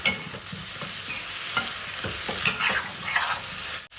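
Bitter gourd curry with onions being stirred in a hot pan, a spoon scraping and tossing the pieces in quick repeated strokes over a steady close sizzle, with no talk.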